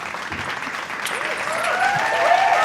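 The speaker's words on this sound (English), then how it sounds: "please give a warm round of applause for our special guest, Marlo McIntyre." An audience applauds a special guest being welcomed onto a stage, a steady broad wash of clapping that swells slightly louder toward the end, with some whistling tones rising over it.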